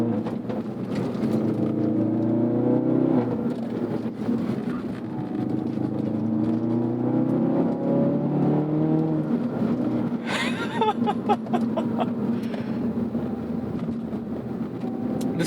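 A 2018 Ford Focus RS engine drones steadily from inside the cabin, with the pitch rising and falling as it revs, and a cluster of sharp exhaust pops and crackles near the end.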